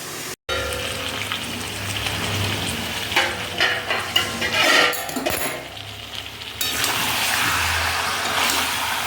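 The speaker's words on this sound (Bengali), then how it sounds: "চিকেনটা আর একটু কষানো হচ্ছে" Chicken is sautéed and stirred in a pan: an even, close sizzle runs throughout, with a stretch of busier scraping and clattering from the stirring partway through before the steady frying resumes.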